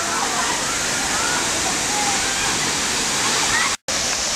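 Khun Korn waterfall roars in a loud, constant wash of falling water, with a brief dropout near the end.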